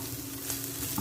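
Bangus milkfish frying in a pan for sisig, a steady soft sizzle heard close and alone with no talking.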